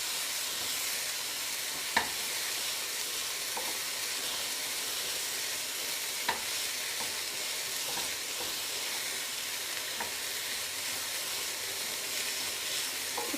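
Leeks and onions fry in a pan with a continuous soft sizzle and hiss, punctuated by occasional faint clicks and scrapes as they are stirred, fairly quiet and with no talking.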